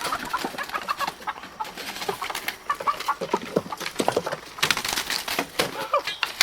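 Chickens and a rooster cluck and squawk in quick, agitated bursts in a yard as the rooster is chased and grabbed, with scuffling and scattered bird calls close by.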